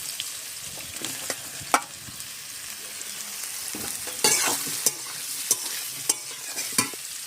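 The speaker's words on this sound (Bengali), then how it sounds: "শাক ভাজার আগে সবিনটা ভেজে নিচ্ছি" Soybean chunks fry in a wok as a soft, steady sizzle. Sharp pops and scraping stirring clicks break through every second or so, and nobody speaks.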